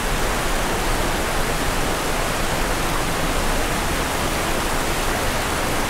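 Zapata Falls in Colorado roars close by, a dense, steady rush of falling water that fills everything with unbroken broadband noise and no voices.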